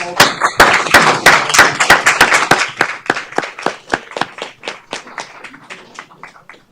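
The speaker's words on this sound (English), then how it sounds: "We'll give a round of applause to Aurora." A small group at a city council committee meeting claps for an honoree, a handful of distinct, sharp claps close by that start dense and then thin out and fade over several seconds.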